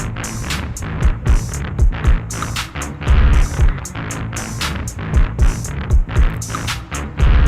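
A musician's riff captured on a phone, heard as loud, repetitive rhythmic pulses with sharp percussive hits throughout, a compressed, slightly distorted recording with no talking.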